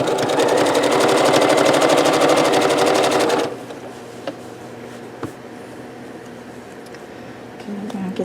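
Sewing machine running steadily as it stitches a minky crazy quilt, loud and continuous for about three seconds before stopping, followed by quiet room sound with faint small clicks.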